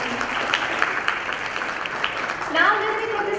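An audience at the Glocal Teen Hero 2016 ceremony gives a steady round of applause, a dense even patter of many hands that swells slightly near the end, with voices murmuring and calling out beneath it.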